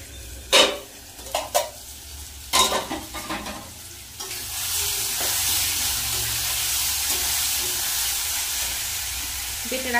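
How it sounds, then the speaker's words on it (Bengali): Spice masala mixed into a pan for crab curry, with several sharp clatters and scrapes of a utensil against metal, then a sudden hiss that settles into a steady, close sizzle. "এই মশলাটাই ভালো করে একটু মিক্সড করে নেব।"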